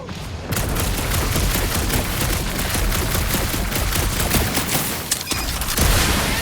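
Heroes firing blasters in the Marvel's Guardians of the Galaxy video game: dense, continuous rapid-fire bursts filling the whole stretch, loud and close, with a few sharper cracks near the end and no talking.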